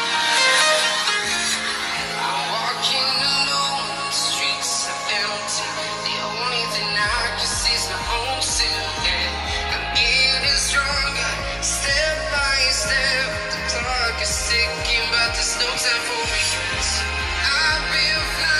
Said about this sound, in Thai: เดี๋ยวผมให้ฟังเสียงละกันว่ารุ่นนี้ลำโพงดังขนาดไหน